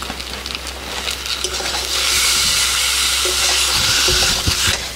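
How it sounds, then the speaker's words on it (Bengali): Fish curry with a paste of dried chilli, cumin, ginger, turmeric and salt is sautéed in a pan, giving a loud, steady sizzle and hiss with scraping stirs and a few sharp clicks from the utensil. "এবার আমি 5 মিনিট মতো কষিয়ে নিচ্ছি"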